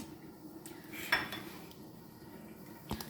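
A metal lid clanks onto a cooking pot with one bright ringing contact and a smaller rattle later, quiet in an otherwise still kitchen.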